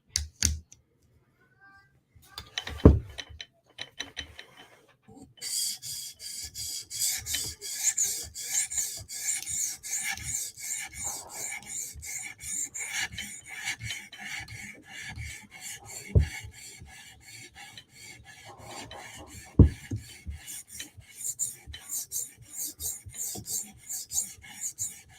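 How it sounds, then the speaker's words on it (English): A knife is drawn across a 400 grit sharpening stone on a TSProf Kadet guided sharpener, making quiet, close rasping strokes in an uneven repeating rhythm after a few isolated taps and scrapes. "Okay, moving into a 400 grit stone."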